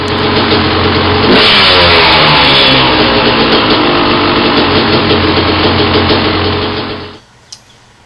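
A two-stroke motorcycle engine fitted with a Lectron carburetor runs loud and close, revving with a buzzy, rising-and-falling pitch for about seven seconds before cutting off abruptly, followed by near silence and a small click.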